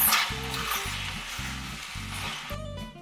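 Food sizzles and is stirred in a frying pan, steady frying hiss with a few scraping strokes of a utensil, close and fairly quiet, with no voices.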